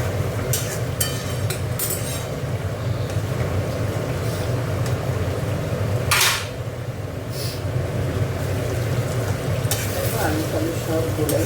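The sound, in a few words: potatoes and aubergine frying in oil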